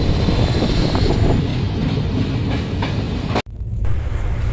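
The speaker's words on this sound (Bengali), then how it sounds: "আর এখন আমাদের ট্রেন তার পরবর্তী স্টেশন অর্থাৎ কটক জংশনে প্রবেশ করছে।" Express train pulling into Cuttack Junction station, a loud steady rumble of wheels and carriages rolling close by, broken by one brief dip near the end before the roar continues.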